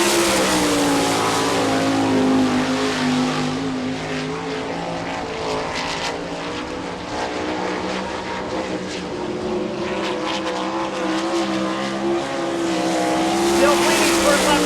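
A World of Outlaws sprint car, the Holbrook Motorsports Gurney Engines number 8H, runs a qualifying lap at Rossburg, Ohio, its engine roaring continuously with rising and falling pitch while an announcer talks over it.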